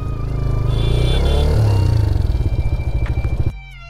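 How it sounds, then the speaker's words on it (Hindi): Low-cc motorcycle engine labouring on a hill climb near Kurseong, a loud steady drone with a low throb that breaks into rhythmic pulsing before cutting off abruptly near the end. "लो सीसी का बाइक होने से अगर आप लोग हिल साइड आते हो ना थोड़ा इसका पावर लैग हो जाता है"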